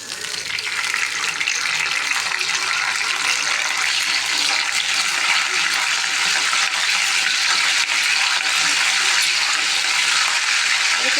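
Curry leaves crackle in hot oil with spluttered mustard seeds, a loud, continuous close-up hiss and sputter with no pauses.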